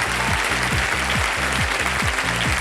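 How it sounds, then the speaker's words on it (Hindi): A studio audience on a televised Hindi quiz show claps loudly and continuously, close and dense, with a rhythmic musical cue pulsing underneath. "ताली बज जाए इसके लिए।"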